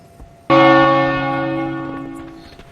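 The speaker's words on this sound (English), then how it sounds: "What is going on with that bell?" A single church bell struck once in the World of Warcraft town of Goldshire, a loud clear clang with rich ringing overtones that decays slowly over about two seconds, with no talking.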